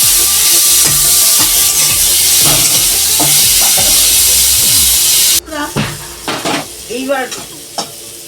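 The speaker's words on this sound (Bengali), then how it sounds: "ওইটা একটু গরম হয়ে গেলে দিলাম লঙ্কা একটু সর্ষে একটু পাঁচফোড়ন" Dry chilies, mustard seeds and panch phoron hit hot oil for a mango morobba, giving a loud, dense sizzling hiss for about five seconds before it drops away to quieter stirring and clinking in the pan.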